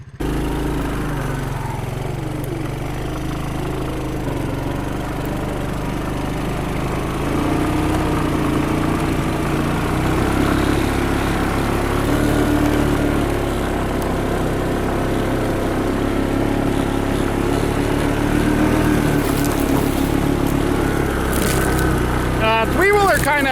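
A 1983 Honda ATC200e three-wheeler's single-cylinder engine runs and revs near, a steady buzzing drone with rising and falling throttle, loud throughout.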